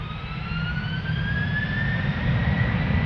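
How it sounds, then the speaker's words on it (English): An Airbus A350 jet airliner in carbon livery approaches at Amsterdam Schiphol Airport, giving a steady, loud engine roar with a rising whine that builds slowly as it draws nearer, with no voices. "A350 coming this way."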